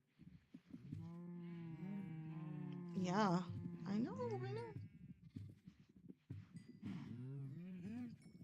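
Cows mooing in the Minecraft video game, with several drawn-out moos and bleating calls in close succession while a person talks over them.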